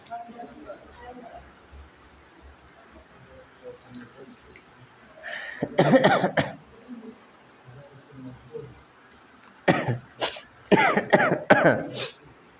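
A person coughs in a short burst, then again in a longer run of several harsh coughs after a pause, close and fairly loud in an otherwise quiet room.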